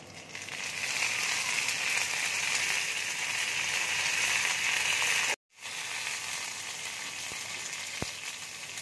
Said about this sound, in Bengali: এবার আমি কারি পাতা দিয়ে দিচ্ছি